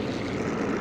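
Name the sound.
aircraft flying overhead in video game Sniper 4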